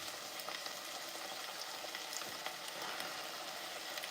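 Onions frying in a pan give off a steady, close sizzle with small crackles and pops throughout, continuous and fairly loud with no voices over it.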